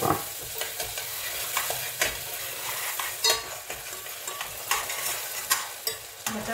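Butter drops into browned, caramelized sugar in a pan for an eggless cake and sizzles hard, with repeated scraping strokes of stirring punctuating the hiss, close and fairly loud, no voices.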